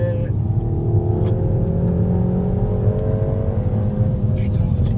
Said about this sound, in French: Tu raccélères